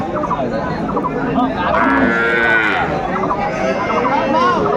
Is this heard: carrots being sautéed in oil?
no